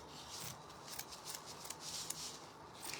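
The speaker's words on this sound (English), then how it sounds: "Oh, let me cut this out." Scissors snip through burlap fabric in a short run of crisp, close cuts, with soft rubbing of the coarse cloth between snips and no talking.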